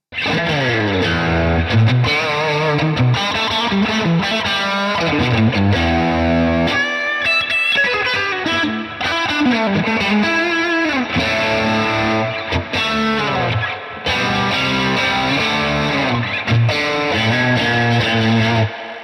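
A distorted electric guitar plays a dense, heavily processed passage with thick chorus and effects, loud and sustained, pausing briefly before resuming.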